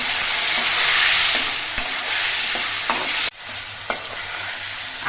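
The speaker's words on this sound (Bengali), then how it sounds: "আলু দিয়ে আর মশলা দিয়ে আমি দু তিন মিনিটের মতো কষিয়ে নিয়েছি" Potatoes and spices fry loudly in a pan, a steady dense sizzle broken by a few sharp clinks of a stirring spoon and one sudden drop in intensity partway through.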